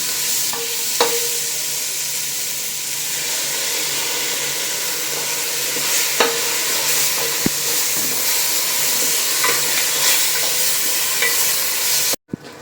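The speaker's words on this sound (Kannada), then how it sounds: "ಇವಾಗ ಮಸಾಲ ಎಣ್ಣೆ ಬಿಡೋವರೆಗೂ ಫ್ರೈ ಮಾಡ್ಕೊಳ್ಳಿ ಚೆನ್ನಾಗಿ" Ground green masala fries in hot oil, over tomatoes already softened, for a mushroom green pulao: a steady, close, dense sizzle with scattered spatula clicks and scrapes, cutting off abruptly just before the end.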